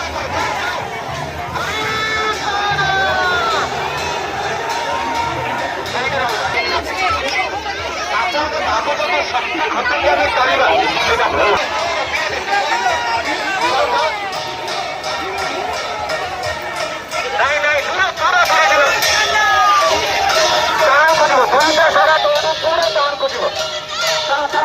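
Huge crowd at the Baripada Rath Yatra chariot festival in Odisha: dense outdoor chatter, shouts and cries from many people, loud and continuous, with voices rising in surges as the throng pushes along.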